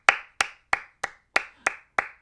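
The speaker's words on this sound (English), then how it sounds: "Give them a round of applause." A few slow, evenly spaced claps, seven sharp hand strikes about a third of a second apart, close and dry with no crowd around them.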